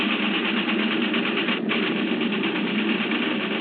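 Number four engine of an aircraft in a radio drama drones steadily and continuously, a dense mid-pitched roar with no voices over it.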